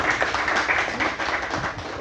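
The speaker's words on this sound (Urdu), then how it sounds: "آپ اپنے لیے تالی کی جائے" Applause for newly licensed lawyers at a district bar association gathering in Rajanpur, a dense crowd clapping steadily for about two seconds and tapering slightly near the end.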